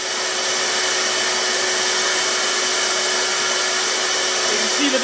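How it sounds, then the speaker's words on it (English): A belt sander runs continuously, its sandpaper being cleaned of built-up sawdust with a rubber stick while woodworking a redheart bandsaw box, giving a loud, steady motor whine and abrasive rush throughout. "I'm going to take my rubber stick here just to clean off the sandpaper with all the sawdust that's built up in there."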